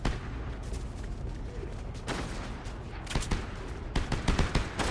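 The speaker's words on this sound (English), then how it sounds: "she's getting shot at" Video game gunfire crackles in dense, continuous bursts, mixed with rapid shots and heavy booming fire throughout, with sharper volleys standing out near the middle and end.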